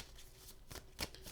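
Tarot cards being shuffled and drawn, a soft brief riffle of card stock with a few quiet flicks, close and faint.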